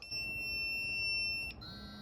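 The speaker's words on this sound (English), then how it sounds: "It first beeps, then immediately it vibrates." A DINJOO smart bark training collar gives a steady high-pitched electronic beep for about a second and a half, then cuts off, leaving a fainter tone over low background hum.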